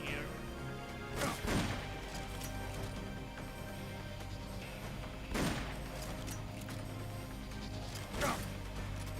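Heavy bursts of M60 machine gun fire from Metal Gear Solid Peace Walker, three loud booming volleys spaced a few seconds apart over a constant game background rumble.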